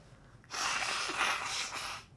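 Congested nose sniffling, a single loud wet snort-like sniff lasting over a second, close to the microphone with no talk.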